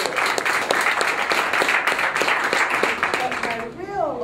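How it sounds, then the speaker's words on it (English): A crowd at a workers' rally applauds Congresswoman Maxine Waters, a steady dense wash of many hands clapping that fades near the end as a voice begins. "I want you all to give her a round of applause."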